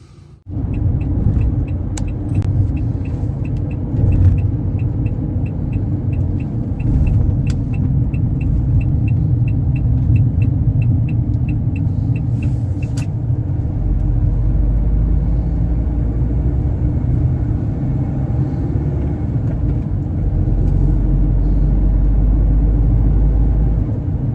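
A car drives slowly along a road, its steady engine rumble and tyre noise continuous and close throughout, with no talk.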